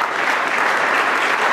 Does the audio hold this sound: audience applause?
yes